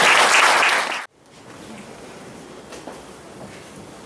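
A church congregation at a conference applauds to welcome speakers, loud dense clapping that cuts off abruptly after about a second, leaving quiet room tone.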